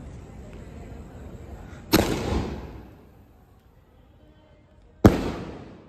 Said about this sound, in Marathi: तर बघा स्काय शॉट बघू आता कसं येतोय.